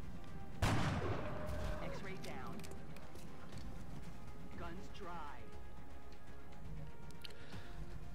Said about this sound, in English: let's take some shots with our snipers